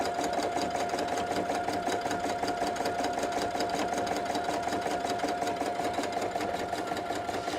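A PFAFF Créative Expect 350 sewing machine stitches an appliqué, its needle chattering in a fast, steady rhythm with a constant motor hum, close and loud throughout.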